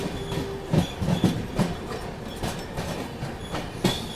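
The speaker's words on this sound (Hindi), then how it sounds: "लोकोमोटिव जो लीड कर रहा है मालगाड़ी को, कंटेनर वाली" A container freight train led by a WG12 locomotive passes at a station, with rhythmic clickety-clack of wheels over rail joints and a steady rumble, heard close and fairly loud.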